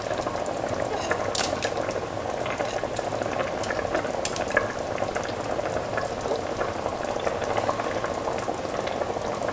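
Soaked rice being stirred into a simmering chicken, carrot and coconut milk mixture: a steady bubbling, sizzling cook with soft scraping stir sounds and a few brief clinks, close but fairly quiet, with no speech.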